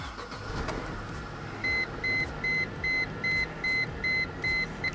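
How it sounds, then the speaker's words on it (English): A car engine idling with a cylinder misfire, a low uneven rumble running throughout, while a regular electronic beep repeats about eight times over it; no one speaks. "We're gonna run the car for a second and see if the misfire moves to a different cylinder"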